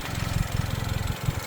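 A Chevy Silverado 2.7L TurboMax with exhaust and intake wrap idles low and quiet, a soft, uneven throb pulsing a few times a second with no voices.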